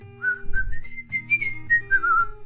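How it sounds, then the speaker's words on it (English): A person whistles a wavering melodic line over quiet background music with steady low chords, the whistled notes clear, close and sliding between pitches. "I probably shouldn't whistle over the music."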